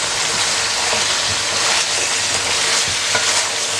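Garlic-ginger paste frying in ghee for beef nihari, a loud, steady close sizzle that crackles without pause for the whole stretch, with no voices.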